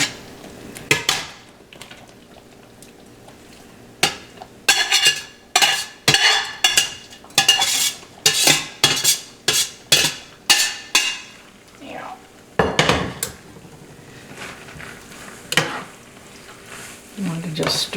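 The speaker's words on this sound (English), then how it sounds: "You want to just stir this around." Fettuccine noodles are stirred through a creamy garlic shrimp sauce in a pan, making a rapid series of scraping, clattering strokes with short pauses and a faint sizzle underneath.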